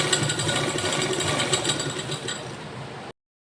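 A sewing machine runs steadily, stitching elastic into a pair of kids' pants cut down from old men's trousers, a dense continuous mechanical whir that holds for about three seconds and then stops abruptly.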